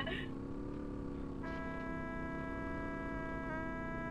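A vehicle horn in the MTA Battlegrounds video game blares as a sustained tonal honk over steady engine noise, with a second horn blast starting midway and holding to the end.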